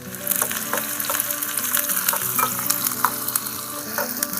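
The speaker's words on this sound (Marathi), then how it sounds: "आता मम्मी कांदा टाकणार लालसर होईपर्यंत." Onions fry in a pan over a village wood fire and are stirred, giving a close, dense sizzle broken by scraping and clinking strokes, with no talk.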